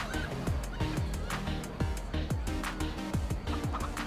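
Chickens in the Minecraft Story Mode video game cluck in a steady run of short, repeated calls over busy in-game background sound.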